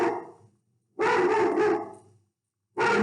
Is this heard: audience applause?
no